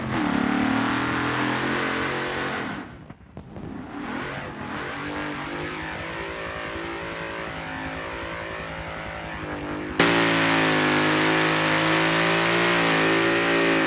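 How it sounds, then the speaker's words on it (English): A race car's engine revs hard during slaloms at Daytona, rising and falling in long sustained wails with a brief dip around the three-second mark, then a sudden louder, brighter roar near the end. "And huge slaloms to spin out past the Rolex sign."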